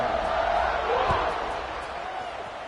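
Crowd noise swells steadily through a football stadium as a team lines up to kick off with a three-possession lead, a broad roar running from start to finish with no clear voices above it.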